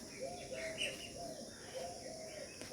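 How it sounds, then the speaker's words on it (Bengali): A dove cooing softly in a quiet village, a few faint repeated calls over low ambient background with other birds chirping. "ঘুঘু ডাকছে।"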